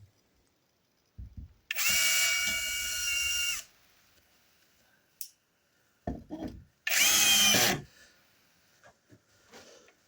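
A Grosser GCD 16/42 cordless drill drives screws into wood in two loud, close bursts of high whining motor about two seconds each, separated by quiet handling clicks and knocks.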